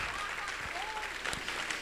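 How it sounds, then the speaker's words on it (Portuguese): A congregation at a youth workshop applauds, a brief, moderate wash of clapping across the room with a voice faintly present beneath it. "Aplauda o Senhor."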